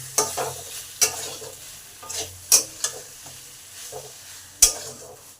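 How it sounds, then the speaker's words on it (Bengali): Chopped kulpi greens cooking in a spiced gravy are stirred in a pan, with several distinct spoon scrapes and knocks over a soft continuous sizzle, close and without talk. "ভালো করে নেড়ে নেব"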